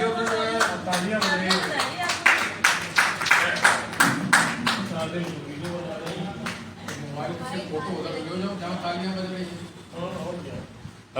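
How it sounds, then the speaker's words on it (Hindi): Scattered clapping from a small audience at a Hindi poetry gathering, a few pairs of hands tapping in an uneven rhythm near the start and fading into ongoing talk and murmur. "तालियां बज रही वो दादा के नाम पे जाएगी।"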